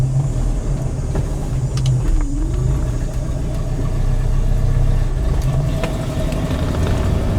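A 1968 Mercury Cougar engine idles steadily and evenly throughout, a constant low rumble with no revving and no voices.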